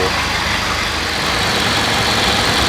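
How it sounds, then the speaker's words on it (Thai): A Toyota Corolla Altis with a 3L engine idling, a steady, even hum with a low rumble running unbroken and fairly loud throughout, no voices. "อันนี้ติดเครื่องอยู่เนาะ ได้แล้วเสียงนิ่งมากค่ะ"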